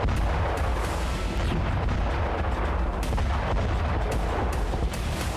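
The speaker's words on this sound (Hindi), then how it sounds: "यूक्रेनी फोर्स ने रातेल ड्रोन से इस पुल को उड़ा दिया।" A Ratel ground drone carrying a 35 kg payload detonates and blows up a bridge in wartime Ukraine, producing a sustained, loud roar of blasts and crackling booms with sharp repeated impacts throughout, and no voices.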